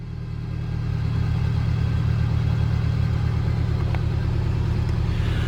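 A 2017 Mercedes-Benz C200 SE engine starts and settles into a steady, close idle with a low, even rumble and no talk.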